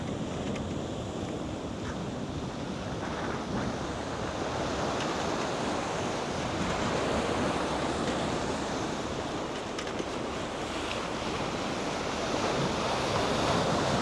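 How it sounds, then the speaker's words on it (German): Waves wash ashore continuously on the Maspalomas coast of Gran Canaria, a sustained close rush of surf with some wind noise and no talking throughout. "Hier kommt richtig Wasser an."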